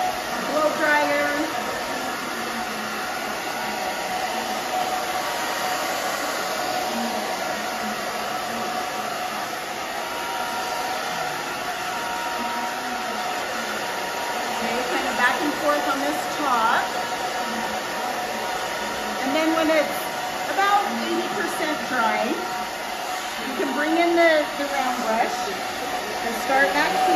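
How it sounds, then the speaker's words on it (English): A hair blow dryer runs continuously at close range while a short bob is styled, giving a steady loud whoosh with slight shifts as it moves back and forth. "blow dryer."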